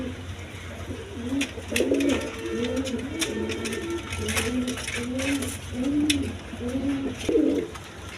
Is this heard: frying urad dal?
no